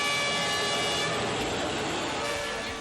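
Passenger train departing a station in Phnom Penh, Cambodia, a steady dense rumble of moving rail cars filling the whole clip, fairly loud and close, with no talk over it.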